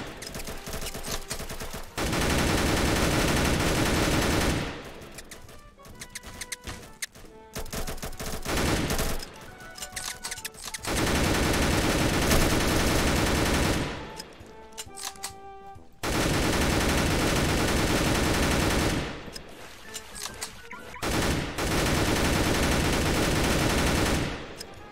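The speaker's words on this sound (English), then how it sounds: "Dude, why are you shooting at me?" Gunfire in Roblox Mad City comes in long loud bursts of rapid automatic shots, several sustained volleys separated by brief quieter gaps with scattered single shots, dense and close.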